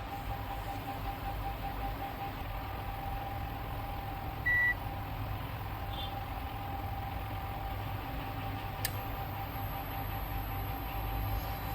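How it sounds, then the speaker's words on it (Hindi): A Samsung inverter air conditioner compressor runs with a faint, steady low hum and a thin constant whine, with a brief soft beep partway through and no talking. "कंप्रेसर की आवाज़ भी आप सुन सकते हैं"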